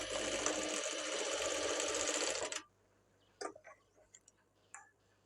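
Sewing machine stitching a blouse, a loud continuous whirring run for about two and a half seconds that stops abruptly, followed by a few light clicks and handling taps nearby.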